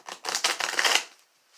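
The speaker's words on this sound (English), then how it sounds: "I'm just going to finish up shuffling up the cards and then we'll get started" A deck of tarot cards being shuffled by hand, a run of close papery riffling and flicking bursts that pause, resume briefly, then stop, with no voices.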